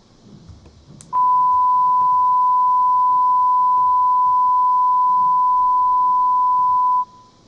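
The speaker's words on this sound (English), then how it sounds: "it's better to do it with a signal generator" A steady pure test tone at -18 dBFS from a signal generator starts abruptly after a faint click and holds unchanged and loud for about six seconds before cutting off.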